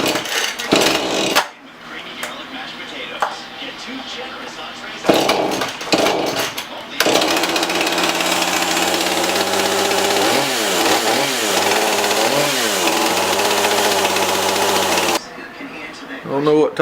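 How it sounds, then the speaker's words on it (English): A Husqvarna 440 X-Torq chainsaw, fitted with a new bar and chain after an oiler replacement, is started and run nearby, its loud two-stroke engine revving up and down in sustained bursts with brief pauses. "We're now going to crank the unit and ensure that we're getting ample amounts of oil."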